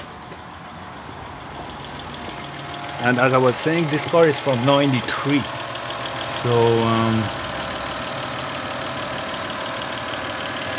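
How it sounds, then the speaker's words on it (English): A 1993 Toyota Camry with a 3.0L 3VZ-FE V6 and 125,000 miles idles with a steady, even hum that runs the whole time, while a person talks over it for several seconds. "let me go and start the car up."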